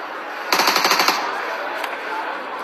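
Automatic gunfire in PUBG Mobile during a Pakistan tournament match, a rapid burst of about ten loud shots followed by a single later shot, with faint game ambience throughout.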